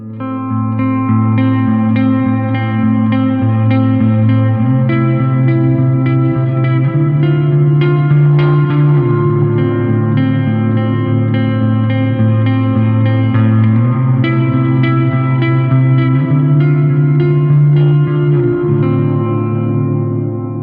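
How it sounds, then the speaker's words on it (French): Electric guitar chords ring through the hall reverb of a Zoom MS50G multi-effects pedal set to a long decay, sustaining loud and continuous with a lush, washing tail and no talking. "Hall, on rajoute plus de decay. Le decay, c'est le sustain de la reverb."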